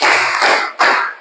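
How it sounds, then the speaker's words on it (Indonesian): A classroom of pupils claps in a set pattern, two loud, close bursts of many hands, the second following a short gap. "Tepuk 1 kali, tepuk 3 kali,"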